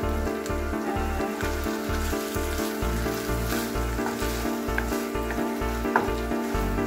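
Pork giniling sisig is stirred in a sizzling pan, giving a loud, continuous frying hiss with a rhythmic low scraping from the stirring and no talk.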